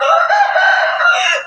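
A rooster crows once, loud and close, in a long sustained call outdoors in a temple yard in Chae Hom, with no other sounds over it.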